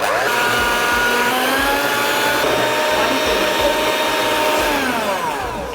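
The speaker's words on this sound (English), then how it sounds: "we're going to start with some caster sugar and 2 eggs. You want to whisk that together for about 3 minutes." Caster sugar and two eggs whisked together for cake batter with an electric mixer, a steady loud motor whir running unbroken throughout, its pitch wavering slightly as the mixture thickens.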